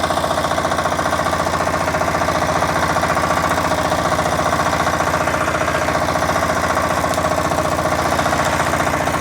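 A walk-behind tractor engine runs at steady revs, a close, even, rapid knocking chug that holds constant throughout, with no talking.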